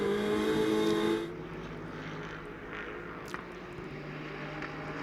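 GT race cars from the Blancpain GT World Challenge America run at Watkins Glen in 2019. A loud engine roar dominates the first second, then drops to a more distant, steady drone of cars circulating.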